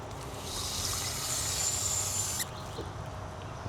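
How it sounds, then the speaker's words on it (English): Water is added to a Park Tool Cyclone chain scrubber on an e-bike chain as a close, steady hissing pour that stops abruptly after about two seconds. Faint handling noise follows. "Put a little more water in there again."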